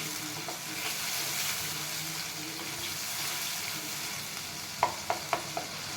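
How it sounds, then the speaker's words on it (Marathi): Spice paste for homemade dabeli masala sizzles and crackles in hot oil in a kadhai while being sautéed, a bright steady frying hiss followed by a few sharp clinks of a spoon stirring against the pan. "पेस्ट टाकून घेऊ आणि आता परतून घ्यायचे आपल्याला"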